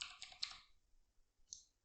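Typing on a computer keyboard while entering spreadsheet table names, a short burst of close, quick key clicks followed by a single faint tap.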